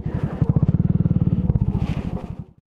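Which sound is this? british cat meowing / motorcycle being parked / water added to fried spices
motorcycle being parked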